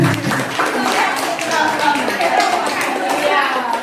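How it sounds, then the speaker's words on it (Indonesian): Teachers and parents clap for the winners of a classroom activity, a steady wash of hand claps from a room full of people with chatter mixed in. "Beri tepuk tangan untuk pemenangnya."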